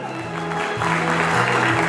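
Audience applause at a Defenders of the Fatherland Day celebration in Uzbekistan, steady dense clapping throughout that swells louder partway through, with no pause.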